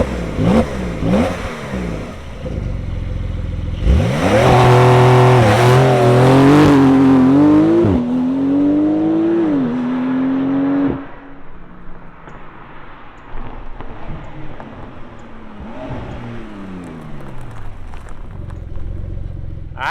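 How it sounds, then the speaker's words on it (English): A 2020 Porsche 911 Carrera S (992) starting up and accelerating, loud and close, with a rising rev sweep, a sustained climbing engine note through gear changes, then a lower settled rumble. "let's fire up this 911 and see it take off."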